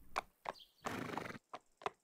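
A horse in the Rising World video game whinnies in short bursts: clipped calls, then one longer drawn-out neigh, then two more brief calls, each loud and close against near silence.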